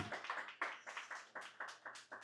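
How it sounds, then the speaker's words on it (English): Quiet, evenly spaced clapping, about nine claps in a steady rhythm, sounding like just a few hands, at a live podcast show in a cocktail bar. "So round of applause for Mona."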